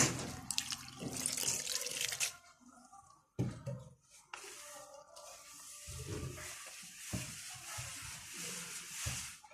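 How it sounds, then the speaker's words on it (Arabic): A tap runs in bursts, water gushing and splashing close up into a bowl of salted flour for dough, stopping briefly then flowing again, with no voices. "احط شويه ميه كده"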